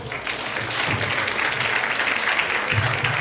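An audience claps for a panel at a financial sustainability conference, dense steady applause from many hands filling the room at an even level.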